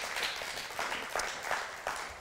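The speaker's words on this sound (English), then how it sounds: "Go ahead and give the Lord a hand clap." A church congregation claps during a sermon, a brief patter of hand claps with a few sharper bursts, moderately loud and without talk.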